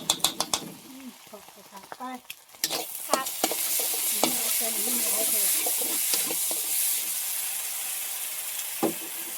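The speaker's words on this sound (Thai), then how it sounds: "เห็ดมันปูค่ะ พัด พัดแห้งๆเลย" Mushrooms sizzle and crackle loudly as they are stir-fried in a hot pan, with scraping stirs and clatter at first, then a steady frying hiss.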